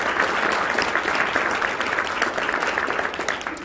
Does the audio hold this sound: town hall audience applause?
yes